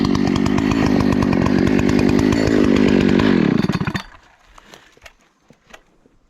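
A chainsaw runs loud and close with a steady buzzing roar during tree felling, then winds down around the four-second mark and cuts off, leaving faint scattered knocks and quiet ambience.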